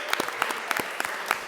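A Friday evening audience honoring Springfield's poet laureate gives a burst of applause, dense, steady clapping close by for a brief moment.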